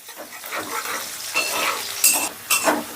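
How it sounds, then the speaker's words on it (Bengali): Ginger, garlic and green chillies fry in a pan over low gas heat, giving a steady close sizzle with stirring and spatula scrapes, and louder bursts of crackle near the end, with no one speaking. "আমি আদা রসুন আর কাঁচা লঙ্কাটাকে একটু ভাজা ভাজা করে নেব"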